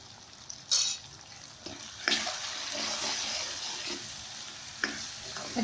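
Masala of crushed and ground red chilli and coriander powder sizzling in a pan for a mixed vegetable curry, with a steady hiss broken by a few sharp spoon knocks and scraping stirs.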